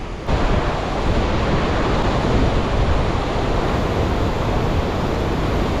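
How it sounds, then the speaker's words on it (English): Waterfall at Upper Virginia Falls in Glacier National Park, a loud, steady, unbroken roar of heavy water pouring down, close by and constant, with no voices. "there's just so much water pouring down here"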